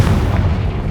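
Confringo blasting spell exploding in the video game Hogwarts Legacy, a single loud, close, deep boom with a rumbling roar that fills the whole moment.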